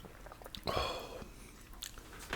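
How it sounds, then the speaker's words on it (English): A crunchy Popeyes chicken burger is chewed close to the microphone, soft intermittent crunches and wet mouth sounds at a whisper-quiet level, with one louder bite-like burst in the middle. "I hope you enjoyed that chicken burger as much as I did, because that was delicious"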